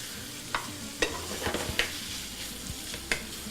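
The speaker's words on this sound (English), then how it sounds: "And I should be stirring that bacon in the meantime." Maple bacon frying in a pan sizzles steadily and fairly quietly while a utensil stirs it, with about five distinct scraping clinks spaced irregularly over the hiss.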